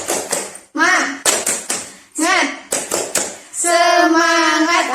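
Sharp hand claps in a quick rhythmic pattern from children doing the Indonesian 'tepuk semangat' clap, alternating with a young voice chanting and calling out in between.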